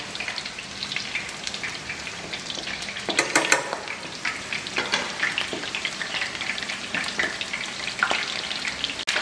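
Pieces of pez gallo fish fry quickly in hot oil, giving a steady broadband crackle with brief louder spattering bursts, close and continuous, with no talking.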